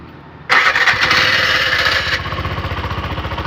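Bajaj auto rickshaw running on LPG with its filter removed, cranking and catching abruptly into a loud, close engine roar that settles into a rapid, pulsing idle.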